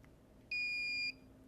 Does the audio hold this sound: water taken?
no